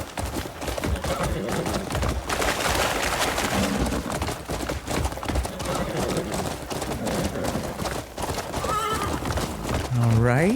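A horse in the Crimson Desert video game whinnies loudly and its hooves clip-clop steadily, with the rider's footfalls and gear moving close by while people talk over the action.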